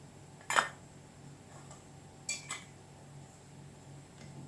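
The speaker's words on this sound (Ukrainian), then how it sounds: "Накриваємо кришками." Metal lids set down onto glass jars of tomatoes in a kitchen, a sharp clatter followed by a couple of lighter clinks, with quiet room hum between.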